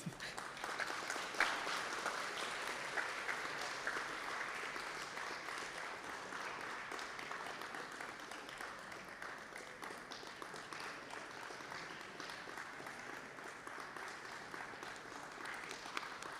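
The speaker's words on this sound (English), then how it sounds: "More applause, please." Sustained crowd applause greets the Slovakia delegation at the CEOAI 2026 opening ceremony, a dense, even wash of clapping from a large audience holding steady at a fairly soft, distant level for the whole stretch.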